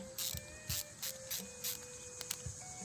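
A hose clamp is tightened on a pond aeration air hose, giving repeated short ratcheting clicks in quick bursts, close and fairly quiet, with no talking.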